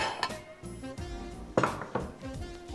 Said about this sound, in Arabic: هناخد صينيه بايركس